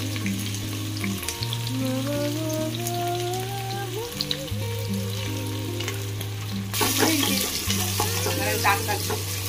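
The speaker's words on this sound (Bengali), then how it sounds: "মাংসটা বসিয়ে দিলে তো কষাবো।" Mutton sautéing in a pan, a continuous close crackling sizzle like light rain with stirring scrapes, under steady background music.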